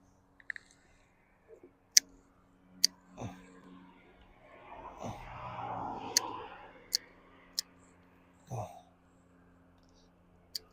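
Pruning shears snip peach tree branches, giving a series of sharp, isolated clicks spread across the stretch, with quiet rustling of foliage between cuts in an otherwise calm outdoor setting.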